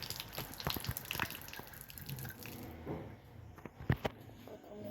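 Something being wetted under running water outdoors, uneven splashing and gushing with drips and a few louder knocks, close and fairly faint.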